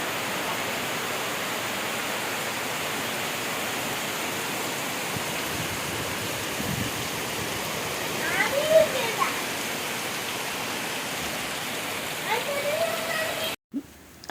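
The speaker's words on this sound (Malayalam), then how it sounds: "നല്ല മഴ." Heavy rain falls around a houseboat in Alleppey as a steady, even hiss that lasts the whole time, with faint voices now and then before a sudden cutoff at the end.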